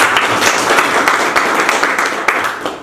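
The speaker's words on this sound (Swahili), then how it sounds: "So, tunaona makofi kwake." Dense, steady audience applause for the first student of a Montessori college in Lushoto, many hands clapping together at close range with a faint voice underneath.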